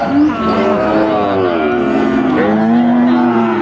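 Thai cattle at a busy livestock market moo loudly and close by, long drawn-out lowing calls overlapping one another, with faint crowd chatter underneath.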